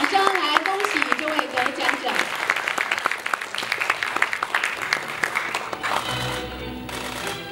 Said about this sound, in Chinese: 我们用热烈的掌声来